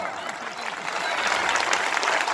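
A crowd at a political rally in Ghazipur breaks into clapping that swells and grows louder, a thick continuous patter of many hands with some voices under it.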